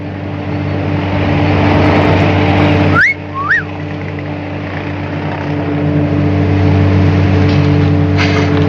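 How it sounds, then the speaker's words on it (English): A two-note admiring wolf whistle, rising then falling, rings out once over a constant engine drone that briefly drops away just as the whistle sounds. "The admiring whistle."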